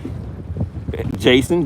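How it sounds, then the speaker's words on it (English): Wind blows across a microphone outdoors during a bass fishing outing, giving a low, rough rumble that carries throughout, with a voice speaking briefly toward the end. "it's a little windy today"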